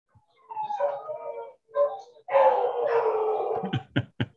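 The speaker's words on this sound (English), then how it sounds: "Those are my dogs." Dogs bark and howl in a quiet room, with wavering howl-like calls followed by a few sharp short barks at the end, close and fairly loud.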